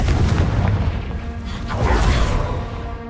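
A Confringo blasting spell explodes in Hogwarts Legacy, a loud, close, booming burst with a whooshing rush that swells again midway and then fades.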